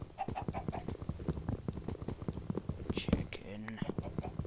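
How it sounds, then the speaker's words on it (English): Chicken in the Minecraft video game, giving short repeated clucks amid busy clicking game sounds and a soft voice, fairly quiet overall. "Chicken."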